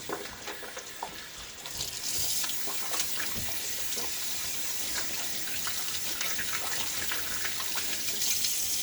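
Water runs steadily from a tap into a sink while shaving soap is rinsed off after a wet shave, a continuous close gush that holds at even loudness throughout.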